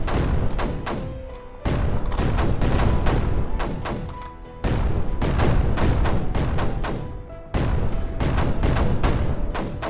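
Mortars fire in the Creeper World 4 strategy game, sounding as repeated dense booming volleys in three loud bursts of rapid thuds. Each burst fades slightly before the next one starts.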